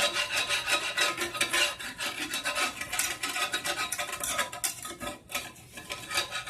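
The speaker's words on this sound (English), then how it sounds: "we're just going to take our whisk and just scrape up all the bits and pieces out at the bottom" A whisk scrapes browned bits off the bottom of a pan while making Southern breakfast gravy, a close, continuous rhythmic rasping and scrubbing against the metal with brief pauses, heard alone without talk.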